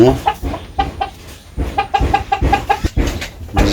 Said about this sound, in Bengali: তো মুরগির খাবার দিয়ে দিলাম, মুরগি খাইতেছে এখন